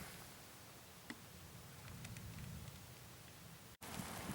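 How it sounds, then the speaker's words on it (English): Light rain beginning to fall outdoors during a thunderstorm, a steady soft patter and hiss with scattered drops ticking nearby, continuous and fairly faint with no voices. "And it's starting to rain, so I'm going to have to put the camera away."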